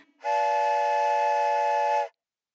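A steam locomotive whistle sounds as a train pulls into a small town, one loud sustained chord-like blast lasting about two seconds, then cutting off sharply.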